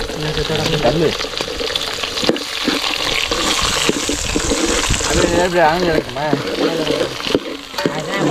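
Chopped onions sizzle and crackle in hot oil while making prawn gravy, with stirring and clinks of a spoon; a voice talks intermittently over the frying.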